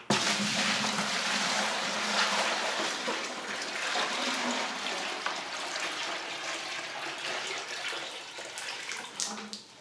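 A full bucket of water is tipped out in one continuous pour, a steady close rushing splash that runs about ten seconds and thins slightly near the end.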